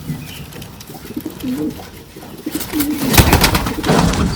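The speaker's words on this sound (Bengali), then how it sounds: "এখানে যে দরজাটা এগুলো কবুতর দেখেন" Domestic pigeons near a coop door giving several low, rolling coos close by, followed by a burst of wing flapping and scuffling.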